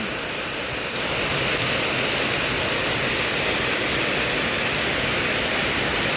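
Steady rain pours down in a dense, hissing wash, swelling slightly after the first second and continuing evenly throughout.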